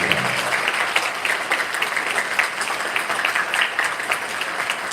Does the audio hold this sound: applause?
yes